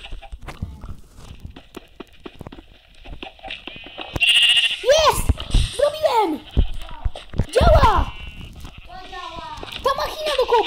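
Pigs squealing in the video game Minecraft, a run of loud repeated squeals in the second half over game noise, with people talking throughout.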